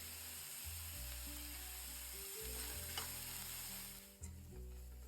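Curry leaves go into hot oil over an onion, chana dal and chilli tempering for avalakki, and sizzle steadily and quietly, with a soft clink near the end.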